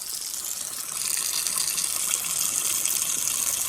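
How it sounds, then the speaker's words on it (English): Hot water gushes steadily from a tap fed by a solar hot water system, a continuous bright hiss that swells slightly after the first second and holds at a constant level with no talking. "I'm running the hot water, which as you can see is actually coming out boiling"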